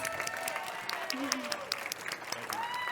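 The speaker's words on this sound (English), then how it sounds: "He deserves a round of applause" Applause from a lunch audience for a chef at a food event, steady clapping at moderate level with a voice speaking over it and whistle-like tones on top.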